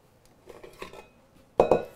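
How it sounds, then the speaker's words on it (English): A spatula scrapes around a mixing bowl and its paddle during cake batter prep with butter and cream cheese, giving faint rubbing scrapes followed by a sharp, louder clank of metal against the bowl near the end. "I want to scrape down the sides of the bowl and the paddle."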